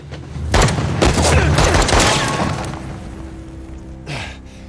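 Gunfire from Uncharted: The Lost Legacy, loud overlapping bursts of shots and booms over a few seconds that fade into a rumbling tail, ending with one more sharp report.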